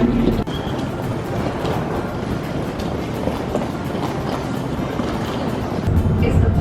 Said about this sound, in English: Making our way along the people mover.